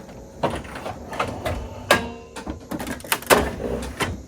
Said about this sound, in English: open the cartridge access door on the front of the printer like this